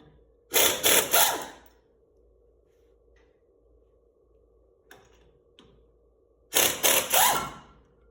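A handheld impact wrench loosens a tire's lug nuts in two separate bursts, each a rapid rattling hammer of several quick hits, near and loud, with a low steady hum and a few faint clicks between them.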